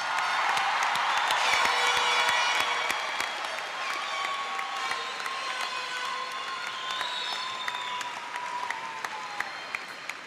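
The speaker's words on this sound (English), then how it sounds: "I think the Vanguard class of 2009 deserves a huge round of applause." A high school graduation audience breaks into sustained applause mixed with cheers and whoops, loud and dense at first and then gradually thinning over about ten seconds.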